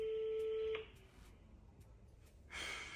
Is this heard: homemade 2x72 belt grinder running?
no